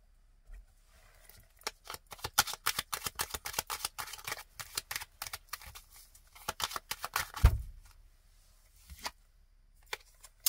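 Béline paper laid over a finished artwork, producing a close, rapid run of crisp paper rustles and crackles that thin out toward the end, with no talking.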